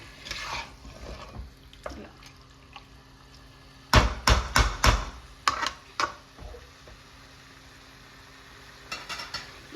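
Chicken pieces coated in onion paste are stirred in a pan for methi chicken, with a soft sizzle underneath and a quick burst of scraping, clattering strokes in the middle, then quieter stirring near the end. No one speaks.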